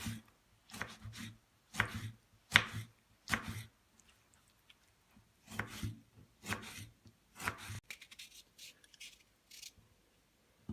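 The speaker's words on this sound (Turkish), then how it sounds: "Domatesimizi de küçük küçük küp şeklinde doğrayalım." Crisp knife chops on a cutting board cutting tomatoes into small cubes, in irregular bursts of quick taps, close by, with brief pauses between runs and no talking.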